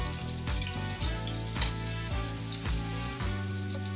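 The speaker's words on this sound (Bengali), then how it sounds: "তো এইভাবে উল্টে পাল্টে আমি মাছগুলোকে লাল করে ভেজে নেব।" Fish coated in lentil powder fries in hot oil spread across a wide pan, giving a steady close sizzle that is broken by regular soft knocks and pulses as the pieces are turned.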